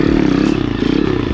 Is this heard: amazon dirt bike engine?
yes